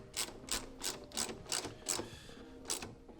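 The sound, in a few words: tightening a body bolt in car panel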